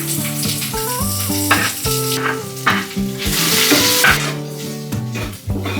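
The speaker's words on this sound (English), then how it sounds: "Start with the garlic. Once it turns golden and fragrant, add in the onions." Garlic and onions frying in hot oil for binagoongan, a loud steady sizzle with stirring scrapes, heard under continuous background music.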